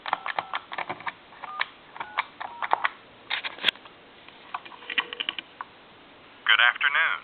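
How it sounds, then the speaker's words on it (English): Push-button dialing on a Kermit the Frog novelty telephone plugged into a regular phone line to call a time and temperature number: a run of short clicks and tone bursts, close and narrow-sounding, ending in a brief steady tone. "we're going to go ahead and dial a time and temp number"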